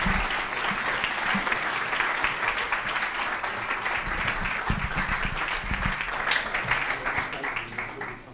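An audience applauds steadily to welcome speaker Dan Reynolds at a talk event, a dense, even wash of clapping with a few cheers that holds for several seconds before tapering slightly at the end.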